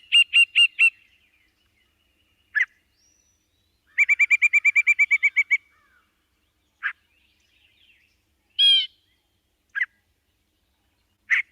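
A songbird of shrublands delivers a varied, thrasher- or mockingbird-like song of separate phrases: a few rapid notes, then a fast buzzy rattle, then scattered single chips and slurred calls spaced by silence, clear and close.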